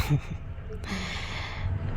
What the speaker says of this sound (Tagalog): Hindi ko makontrol yung pag-ubo ko.